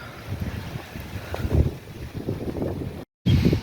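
Steady wind buffets the microphone outdoors in Kyiv on a sunny day, a continuous rumbling roar, with a brief dropout near the end before the gusting resumes.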